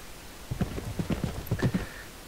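Horse hooves clip-clop in a steady, moderately loud rhythm inside Patrick Moya's virtual world game, a dozen or so evenly paced footfalls heard alone, with no talk.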